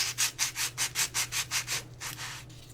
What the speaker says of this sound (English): if you use some sandpaper on a block, you can actually clean up the edge of the foam core board